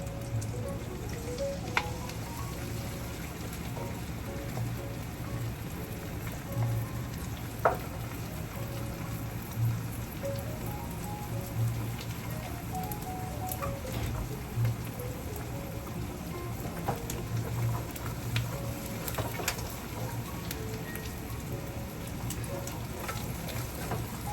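Chinese sausage and egg fry in a pan for fried rice, giving a continuous soft sizzle with scattered pops and crackles and occasional faint scrapes of stirring, close and fairly quiet, with no one talking.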